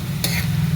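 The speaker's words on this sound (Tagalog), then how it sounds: "Naglagay tayo ng beef dito na cubes" Beef cubes, four pieces, hit a hot pan with a brief hissing sizzle over a steady cooking hum, a short burst that settles back into continuous frying.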